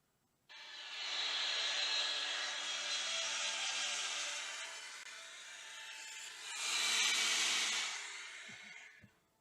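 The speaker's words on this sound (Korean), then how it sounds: "김포공항에 착륙하는 이 비행기 모습입니다." An airplane landing at Gimpo Airport late at night, heard from an apartment rooftop in the nearest neighbourhood: a loud, broad jet roar that holds steady for several seconds, dips, then swells again before cutting off.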